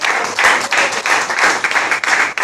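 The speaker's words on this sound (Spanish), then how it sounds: "Vamos a darle un aplauso fuerte a nuestro Dios." A church congregation applauds loudly and close by, clapping in fairly regular rhythmic bursts rather than a smooth wash, with no talk over it.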